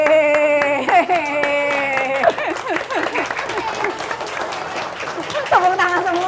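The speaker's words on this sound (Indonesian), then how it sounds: "Tepuk tangan semua tuh." An audience on a talk show claps steadily, with the clapping mixed under a loud, tonal voice or music throughout.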